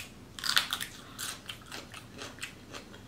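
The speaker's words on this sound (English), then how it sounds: "let me take a bite of this pepper" Close crunchy bites into a pepper during a seafood mukbang, a quick cluster of crisp snaps followed by several softer chewing crunches, with no talking.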